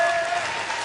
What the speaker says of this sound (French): Voici Ludovic Dacier, les amis, en tonnerre d'applaudissements pour toute l'équipe du Quistax